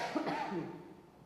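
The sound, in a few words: cough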